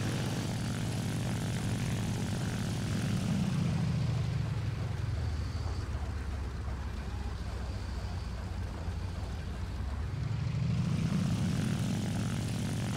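Propeller engine of a Ki-43-II Hayabusa fighter in War Thunder drones steadily for the whole stretch, a loud continuous buzz that dips slightly in the middle and swells again near the end, with no talk.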